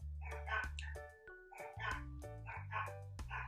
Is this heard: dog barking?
yes